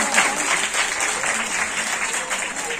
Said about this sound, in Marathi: त्यांच्या जोरदार टाळ्या